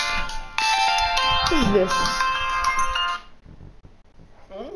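A phone ringtone plays loudly in a repeating melodic pattern, then stops abruptly, while someone talks over it.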